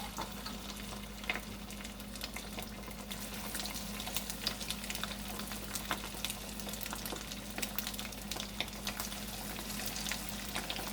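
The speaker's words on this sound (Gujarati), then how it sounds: "તેને આપણે હવે તળવાનું ચાલુ કરીએ" Aloo tikki potato patties frying in hot oil over a low gas flame, a soft, even, distant-sounding bubbling sizzle that holds steady with faint crackles scattered through.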